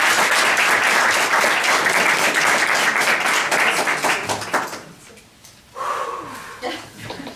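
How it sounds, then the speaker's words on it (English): A live audience at a rehearsal event bursts into dense, loud applause that holds steady for about five seconds, then fades into scattered claps with some chuckling. "Let's give him a round of applause."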